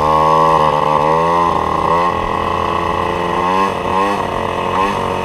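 An MBK 51 Magnum moped fitted with a test air box revs hard while riding. Its loud, buzzy two-stroke drone rises and falls in pitch with each throttle change, close and continuous, with no voices.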